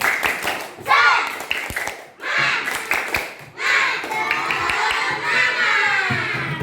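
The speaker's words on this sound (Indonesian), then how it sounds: "kita tepuk semangat terlebih dahulu. Tepuk semangat" A classroom of schoolchildren performs a rhythmic patterned clap, bursts of sharp synchronized claps alternating with loud shouted chanting, close and lively.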